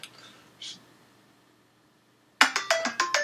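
After a few faint clicks and a quiet pause, a phone's incoming-call ringtone breaks in loudly and up close as a rapid, repeating series of bright melodic beeps.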